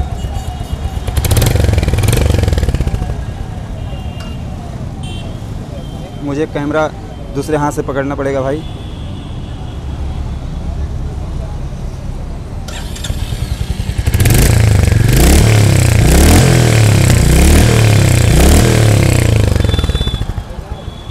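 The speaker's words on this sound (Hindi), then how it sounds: "चलिए थोड़ा सा स्टार्ट करते हैं और देखते हैं कि क्या साउंड है इसका" Royal Enfield Hunter 350 motorcycle with its 350 cc long-stroke single, idling with a deep thump, then revved hard in loud bursts near the end, someone talking between the revs.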